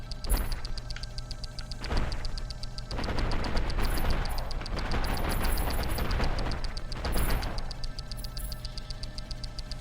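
Rapid bursts of game gunfire blast asteroids in a space shooter, a dense, loud crackle of shots running almost continuously with brief swells and dips.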